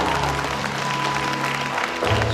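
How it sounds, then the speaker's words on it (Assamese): An audience claps in dense, sustained applause throughout, loud and close, with a low hum beneath it. "মইতো বিচাৰোঁ তেখেতৰ কাৰণে হাত চাপৰি হোৱা উচিত।"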